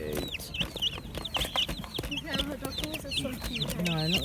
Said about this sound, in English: No, not ducklings, the chickens.